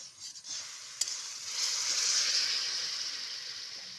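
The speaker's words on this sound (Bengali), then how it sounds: "বাপরে বাপ টকবক টকবক করে ফুটছে" Sour amra curry bubbling and sizzling in a pot after oil is poured in, a steady close frothy hiss that swells after a brief clatter and stays even to the end.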